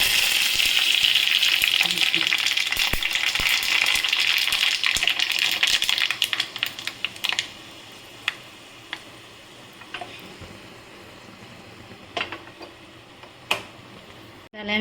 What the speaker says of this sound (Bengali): আমি এতে দেবো হিং আর সর্ষে, কারি পাতা,